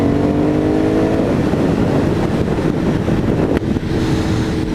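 An Aprilia Shiver motorcycle moves slowly, its engine a steady low rumble blended with wind buffeting across the mic, holding a constant level with a brief dip near the end.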